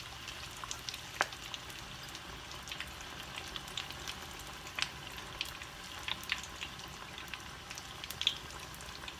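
Lobster pieces with a light coating dropped into a small pan of hot oil, frying with a steady soft sizzle and occasional sharp pops and crackles throughout, no talking.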